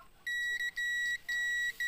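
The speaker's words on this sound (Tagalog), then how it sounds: "Okay, so good yung ating neutral indicator. Kung halimbawa hindi na mag-beep yan" Motorcycle neutral indicator buzzer, wired to body ground while checking the stator, gives a steady high-pitched electronic beep that sounds in several long stretches with brief gaps, loud and close, with no talking.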